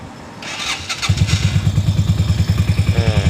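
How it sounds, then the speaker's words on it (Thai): A Keeway Dorado 250 motorcycle starts from cold after sitting for two days, a short cranking clatter catching into a loud, steady, throbbing idle close by, no talking. "เดี๋ยวลองฟังเสียงดูนะครับ อันนี้สตาร์ทตอนเครื่องเย็นนะครับ"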